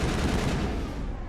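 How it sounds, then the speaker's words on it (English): The main cannon of the Mako vehicle in Mass Effect 1 fires, a heavy booming blast that rumbles and decays across the whole moment without talk. "every shot from the main cannon damages both turrets"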